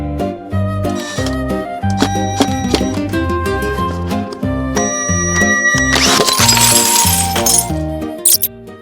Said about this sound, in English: Now we carefully have to clean up all this broken glass.